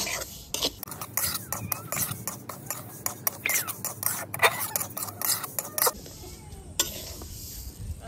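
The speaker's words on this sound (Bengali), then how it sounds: "নাড়াচাড়া করে মুগের ডালটা একটু ভাজা ভাজা করে নেব।" A utensil scrapes and stirs mung lentils in a wok with irregular, close strokes over a soft sizzle of frying.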